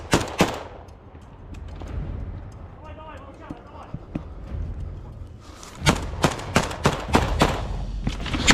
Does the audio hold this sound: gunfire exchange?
yes